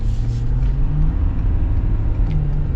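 A 2021 Ford F-250 Limited Super Duty pickup accelerating, a heavy continuous low engine rumble heard from inside the cab, steady and fairly loud with slight rises in pitch, and no talking.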